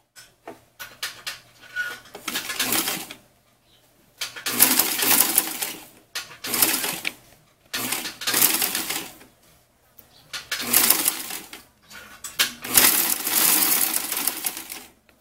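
A sewing machine stitches jumpsuit straps in repeated bursts of rapid, close clatter, each lasting a second or two and separated by short pauses.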